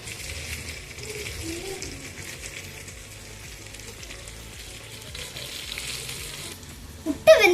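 Eggs sizzle steadily in a pan after being flipped, a continuous hiss of frying at close range, with a few louder clatters near the end.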